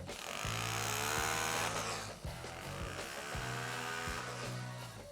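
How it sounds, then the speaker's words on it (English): A power chipping hammer fitted with a flat chisel hammers steadily against brick, a continuous loud rattling drone with a dense, fast percussive rhythm. "if you need to break up brick or something with it, I have an actual flat chisel."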